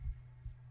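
Heartbeat in the horror game Cry of Fear, two low, muffled thumps about half a second apart over a faint steady hum.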